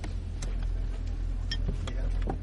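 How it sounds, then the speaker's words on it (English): A parked car's engine left running, a steady low rumble throughout with faint intermittent clicks and rustles on top. "And then we'll leave the engine running."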